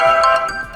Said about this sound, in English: in order to listen how the particular ringtone sounds, simply tap on it